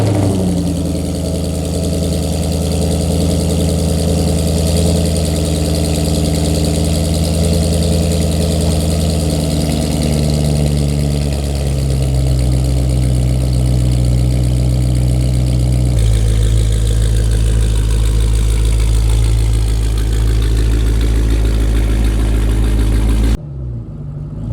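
A 2010 Mustang GT with a Flowmaster exhaust idles steadily up close, a deep rumbling burble that shifts pitch slightly partway through before cutting off abruptly at the end.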